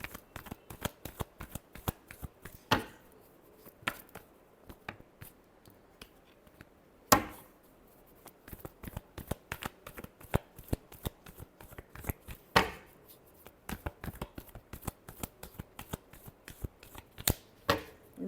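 Tarot cards shuffled steadily by hand, a long run of crisp riffling snaps and flutters with brief pauses, close and fairly loud with no talk.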